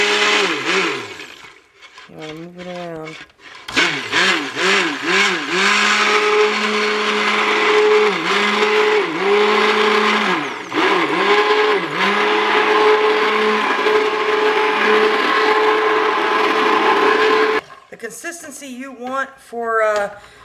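A stick blender whirs steadily in bursts, its motor pitch wavering as it churns thick cold-process soap batter, with brief pauses between pulses.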